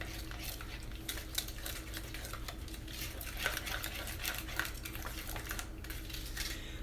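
Salad dressing with a teaspoon of white sugar mixed in a bowl, a quick, steady run of faint spoon taps and scrapes over a low background hum.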